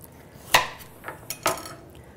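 Cut food pieces set down one after another on a baking sheet: three or four short, sharp metallic taps and clacks, close by, with quiet pauses between.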